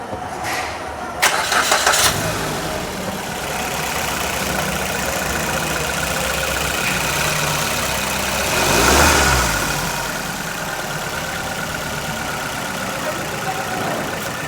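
A used Maruti Suzuki Baleno's engine cranks and catches near the start, then settles into a steady, close idle with a brief swell partway through before holding even.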